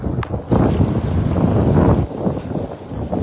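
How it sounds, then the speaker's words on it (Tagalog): Strong wind roars steadily into the microphone outdoors in the rain on a fishing trip at sea, a loud continuous buffeting with brief gusting swells. "Kasi sobrang lakas po ng hangin."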